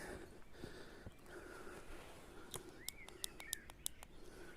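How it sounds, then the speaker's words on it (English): Birds chirp in the woods at dawn, a handful of short, faint tweets and a couple of brief rising calls near the end, set against quiet outdoor ambience with occasional soft clicks. "see, hear all the birds chirping"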